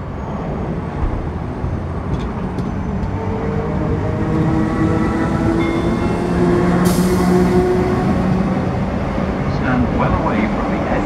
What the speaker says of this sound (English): The train now approaching platform 4 is the 1949 train at platform 4.